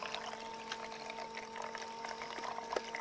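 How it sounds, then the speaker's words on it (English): Pump pouring water into the well of a deep well clean-up sluice and Miller table combo, a faint steady trickle over a low continuous motor hum. "Pump's going. A little filling up the well."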